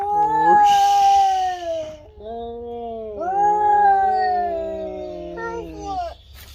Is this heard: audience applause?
no